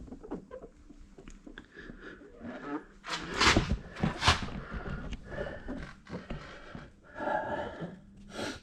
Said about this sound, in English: Apologies if you're hearing heavy breathing.